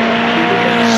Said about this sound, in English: First the GT cars who are going to do the qualifying